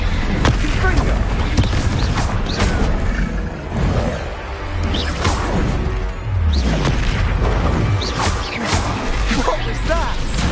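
A Confringo fire blast spell cast in the Hogwarts Legacy video game, a loud, dense roar with booming impacts and whooshing bursts, game voices speaking over the chaotic battle.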